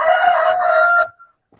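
A rooster crows once, loud and close, in a single sustained cock-a-doodle-doo lasting about a second, then cuts off into near silence with a faint trailing note.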